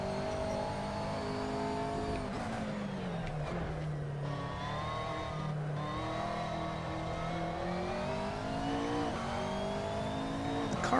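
A race car engine in a racing video game on the Brands Hatch circuit revs steadily and loudly throughout. The pitch rises and falls with gear changes and corners, with occasional tire noise and no talking.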